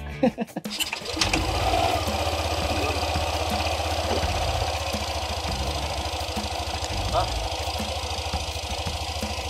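A motorcycle engine, refitted with a replaced part, starts with a brief clatter and then runs at a steady, loud idle with a deep, even throb.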